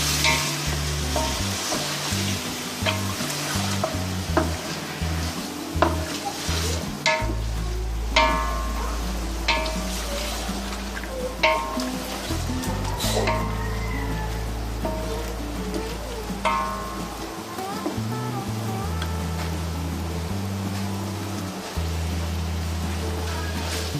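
Chicken sizzling in a pan with ginger-garlic paste and spices for haleem, a steady crackling fry with intermittent stirring scrapes and clinks, close and moderately loud, with a low background hum and no talk.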